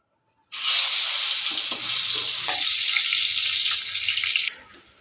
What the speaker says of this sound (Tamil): இப்போ நம்ம இந்த கத்திரிக்காயை ஒவ்வொன்றா போட்டு பொறிச்சு எடுத்துக்கலாம்